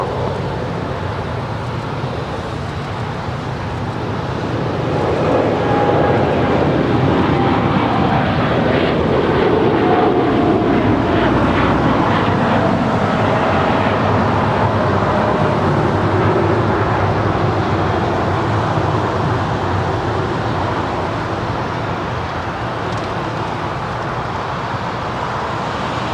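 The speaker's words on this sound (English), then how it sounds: "We do have that United Dreamliner now rolling down 25 right here on the south side." A United Boeing Dreamliner jet rolling down runway 25 right at Los Angeles International Airport, a loud broad engine roar swelling and holding steady from a distance.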